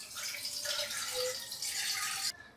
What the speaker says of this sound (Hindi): तो पहले हम स्टीमर में पानी डाल देंगे